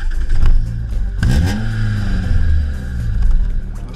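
A Renault Sport Clio 182 hot hatch revs up close, its engine note rising in a sharp sweep and then settling into a loud, throaty rumble that swells again toward the end.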